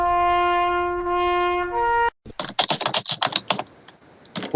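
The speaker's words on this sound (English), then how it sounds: "Somebody is hitting the keyboard." A steady electronic tone holds for about two seconds, then cuts out and a computer keyboard is typed on in quick, irregular clicking bursts, close and clear, during a live talk-show broadcast.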